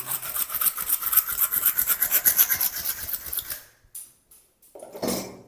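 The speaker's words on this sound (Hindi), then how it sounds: "अब आपको रखनी है एक छोटी सी रेती हमने रेती को इस तरीके से, कुछ इसके एजेस बने हुए हैं उनको कायदे से आपको साफ कर लेना है" A small hand file scraping the cut edges of a part, close and loud in quick rhythmic rasping strokes for about three and a half seconds, then a pause and a few short final scrapes.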